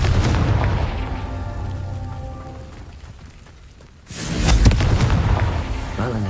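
A Confringo fire spell explosion in the video game Hogwarts Legacy: a loud booming blast bursts in after a quieter crackling stretch and a brief lull, with a rumbling, crackling tail.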